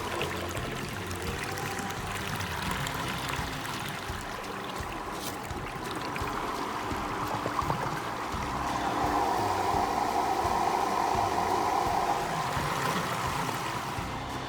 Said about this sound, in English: due to the fact that the pool was low, the filter's sucking air, the air's getting down there